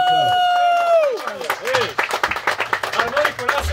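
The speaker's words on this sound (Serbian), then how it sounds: "Hajmo, aplauz jedan." A short sustained accordion note gives way to a group clapping in quick, uneven bursts, close and lively, celebrating a man who has just been given an accordion.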